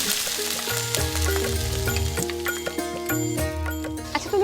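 Chopped garlic and onion fry in a pan, a constant close sizzle mixed with ticking, clattering utensil sounds and a tonal mechanical hum running underneath, no talking.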